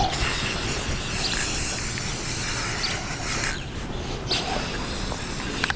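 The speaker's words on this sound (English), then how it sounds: "give her a nice spray down" A steady, continuous hiss of cleaner spraying from a spray bottle onto a Commodore 64, close and loud, running for several seconds with a brief dip partway through.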